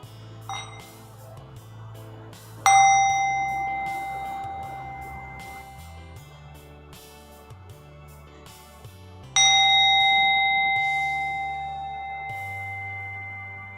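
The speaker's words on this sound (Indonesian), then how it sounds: "Teacher akan membunyikan genta atau lonceng kesadaran ini" A mindfulness bell is struck twice during a Buddhist gathering, each strike giving a bright ringing tone that hangs and slowly fades over several seconds, above a low steady background hum.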